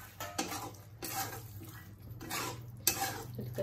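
Fried onions are stirred into ridge gourd and prawn curry in a pan, with a spoon scraping and clinking against the metal in several distinct strokes, close and moderately loud, without speech.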